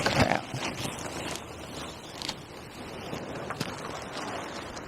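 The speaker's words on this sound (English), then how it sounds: "See, the issue is it's so windy right now." Strong gusts blowing across an outdoor model railroad layout, a steady broadband rush with buffeting surges and occasional microphone wind thumps, no talking.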